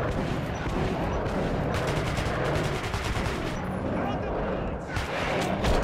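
Rapid gunfire from Metro 2033 crackles in dense, fast bursts close up, with a voice speaking over the shooting.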